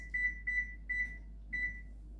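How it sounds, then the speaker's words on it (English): A kitchen timer being set for baking corn bread, giving four short, clear electronic beeps at slightly uneven intervals over a faint steady hum, close and alone. "And I start my timer. I'm going to start it for 15 minutes."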